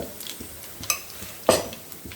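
Chillies for tempering fry in hot oil in a pan for Andhra-style dal, a soft sizzle under a few clinks and scrapes of a spoon stirring against the pan, with two sharper knocks.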